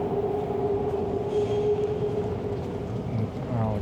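A TTC subway train pulls out of Lansdowne station late at night, a steady loud rumble of wheels on track with a sustained tonal whine and faint squeal, heard close from the platform.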